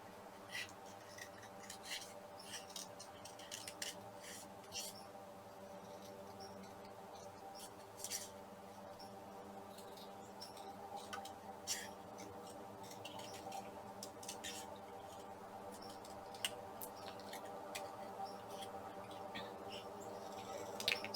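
Scissors trimming paper for a scrapbook layout, with faint, close snips and light paper rustles scattered irregularly over a quiet background.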